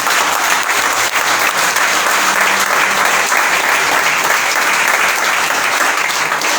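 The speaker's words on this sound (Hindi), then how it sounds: "आई एम जोरदार ताली प्रभु यीशु मसीह के लिए बजाएं" Loud, dense applause from a church congregation during a gospel sermon, continuous hand clapping at close range, holding steady and strong throughout with no speech over it.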